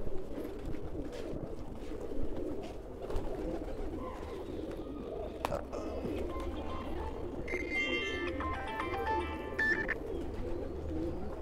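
Pigeons, including a black Siraji, coo in low, soft rolling phrases close by, with bird chirps and a brief mechanical rattle near the end, over a faint steady background hum.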